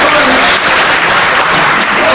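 A hall audience claps for teachers, a loud, sustained wash of applause with a brief voice faintly underneath.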